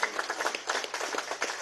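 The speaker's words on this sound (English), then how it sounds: "just a round of applause for you guys" An audience claps in a brief burst of dense, steady applause at moderate volume.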